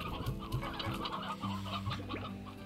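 Chickens clucking inside the video game Slime Rancher, several short clucks in a loose rhythm over a steady soft game backdrop, no talk.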